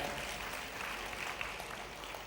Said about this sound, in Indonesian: Kasih tepuk tangan buat Tuhan kita ya.